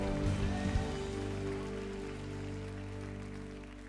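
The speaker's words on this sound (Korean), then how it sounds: "우리 주님 앞에 감사의 박수 올려드립시다." A church congregation applauds during a Sunday service, a dense, steady wash of clapping that fills the room evenly at moderate volume with no voices over it.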